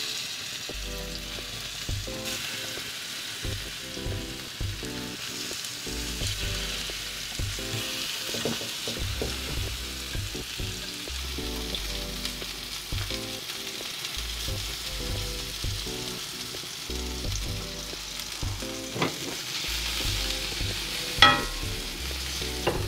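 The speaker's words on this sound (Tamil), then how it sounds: "இப்போ நாங்கள் இதில் மீனை பொரிக்க போகிறேன்" Oil sizzles and crackles continuously as pieces of spice-coated kingfish fry in a pan, a steady close hiss with occasional louder pops.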